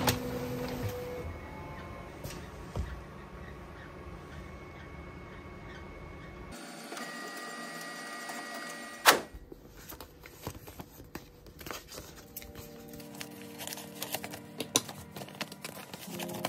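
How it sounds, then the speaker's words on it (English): A home printer printing journalling cards in a small studio: quiet mechanical whirring, ticking and clicking with a faint background hum, a sharp clunk partway through, then busier feed clatter, all fairly soft, with no talking. "So now we are going to hit print and hope it works."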